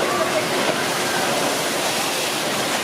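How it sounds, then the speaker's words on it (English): Rushing water from the rapids of a log flume ride at Hersheypark, a loud, dense, continuous roar that fills the whole moment. "The log flume is actually hiding right here as well. Let's see, you can see the rapids hiding right in there."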